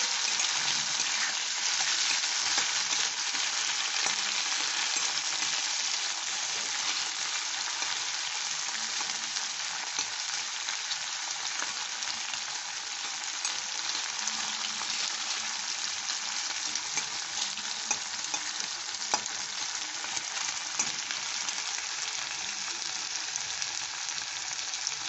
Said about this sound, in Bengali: এটা বেশ ভালো করে ভেজে নিতে হবে।